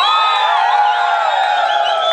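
Continuous loud crowd cheering and whooping from an audience at a live band show, a sustained dense roar of many voices near the listener.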